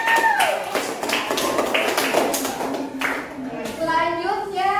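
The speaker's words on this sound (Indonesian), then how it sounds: "Oke, beri tepuk tangan untuk kita semua." A classroom of students clapping hands together, a brisk round of overlapping claps for several seconds, with children's voices and chatter mixed in and rising toward the end.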